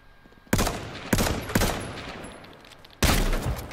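Sharp gunshots ring out in the H1Z1 battle royale game, four loud cracks at uneven intervals, each trailing off into a brief echoing decay.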